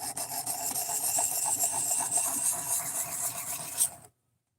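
A 420 stainless steel knife is pushed across whetstones, giving a steady, close gritty rasping scrape that continues for about four seconds before stopping abruptly into silence.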